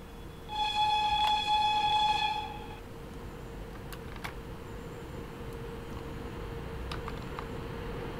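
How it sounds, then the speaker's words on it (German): Whistle of a BR 110 electric locomotive in Train Sim World 3, a single loud, steady tonal blast of about two seconds that cuts off abruptly, leaving a quiet cab hum with faint clicks. "Pfeifen einmal."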